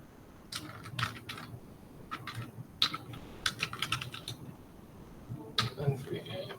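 Code is typed on a computer keyboard in quick bursts of close, crisp key clicks with short pauses between runs, fairly quiet overall.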